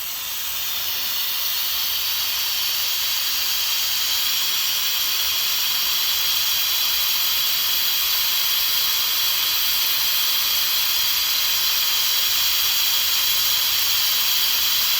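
Air hissing steadily out of a tire valve while airing down off-road tires, a loud continuous high hiss running unbroken from start to finish, close by.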